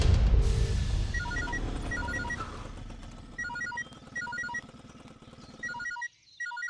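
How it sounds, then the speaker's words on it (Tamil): A mobile phone ringtone chimes in a repeating electronic melody over the low rumble of a moving vehicle, the rumble fading as the ringing continues and then briefly cuts out. "அண்ணே உங்க போன் அடிக்கிற மாதிரி இருக்குனே"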